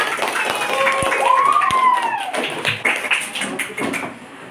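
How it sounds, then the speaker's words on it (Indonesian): Students in a classroom clap together for the whole class, scattered sharp claps and taps under excited children's voices and chatter nearby. "tepuk tangan dulu buat kita semua"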